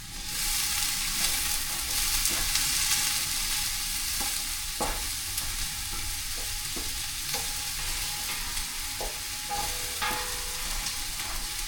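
Onion and potato sizzle and fry steadily in a home kitchen pan, with a scraping spoon stirring them now and then, a continuous close crackle broken by occasional clicks and knocks.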